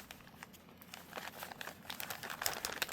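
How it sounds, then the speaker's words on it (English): Paper craft tags and materials rustled and crinkled inside a bag during a rummage, a run of close, soft papery crackles and scrapes that grows busier toward the end, with no talking. "Trying to shuffle through my bag to find what I'm wanting."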